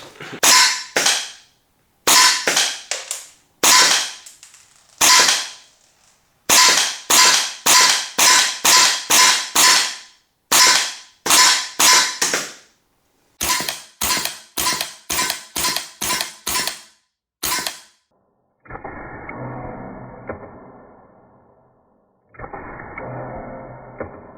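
An FX semi-automatic airgun is test fired in quick strings of sharp, loud cracks, bursts of several shots separated by short pauses, followed near the end by quieter mechanical rattling.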